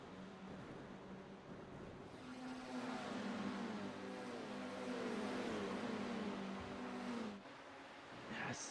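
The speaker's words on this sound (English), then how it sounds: "hearing all the cars going past the camera" Formula 4 racing cars roar past one after another at Watkins Glen, engines rising and sweeping by at a distance, a continuous drone that fades near the end.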